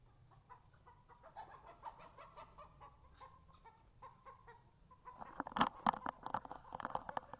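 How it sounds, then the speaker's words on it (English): Chickens cluck and squawk in a farmyard in the morning, getting louder and more agitated toward the end as roosters scuffle and chase each other about nearby. "Sorry that the roosters are chasing each other around."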